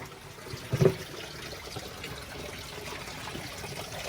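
Pond pump pushing water through filter pads, a soft continuous trickle and splash running steadily at moderate distance, with one brief bump near the start.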